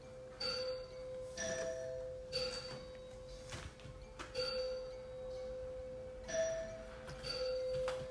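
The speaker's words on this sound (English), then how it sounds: "the doorbell itself sounds kind of like a mix between ominous and fancy" A two-tone chime rings again and again, each ding-dong clear and ringing out over a faint background hum, repeating at a steady pace.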